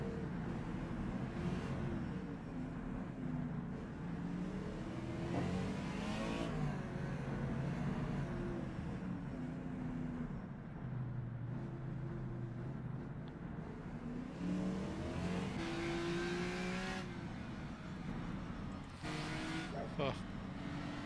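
Race cars in a Chaparral racing game on the Targa Sicilia course drone steadily with rising and falling engine pitch through gear changes, an overtaking car passing; a commentator talks over the continuous engine noise.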